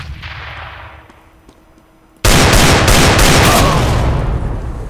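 A grenade blast in Counter-Strike on de_mirage: after a quiet stretch with faint game ambience, a sudden loud explosion erupts and its heavy roar sustains to the end, with crackling bursts on top.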